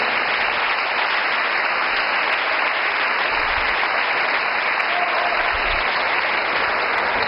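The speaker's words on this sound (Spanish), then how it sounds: "Denle un aplauso a ese amor de Cristo." Steady, dense applause from a large church congregation, sustained at an even level throughout with no pauses.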